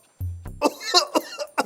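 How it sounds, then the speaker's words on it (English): A person coughs, with a harsh throaty burst followed by several rough, chesty hacks in quick succession, close and fairly loud. "a cough that refuses to go away"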